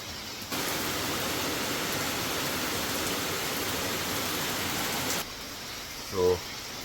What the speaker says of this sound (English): Much needed rains finally.